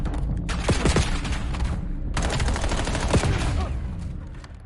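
Rapid bursts of automatic gunfire from the video game Black Ops 7 in a competitive hill-control match, loud and dense, with sharp shots in two clusters separated by a brief gap.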